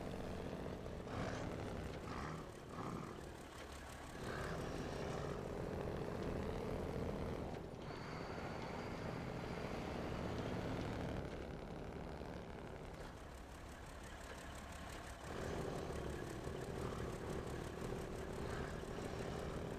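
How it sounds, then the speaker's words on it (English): Two-stroke vehicle engine in the video game SnowRunner, a continuous buzzing drone that rises and falls in pitch as the throttle changes, with brief dips near the middle and a swell toward the end. "Sounds like a two-stroke."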